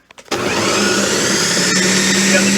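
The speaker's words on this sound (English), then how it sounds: "You run the blender a little bit." A blender starts with a few short bumps, then whirs steadily and loud up close, mixing smoothie ingredients of juice, apples and bananas, with no talk over it.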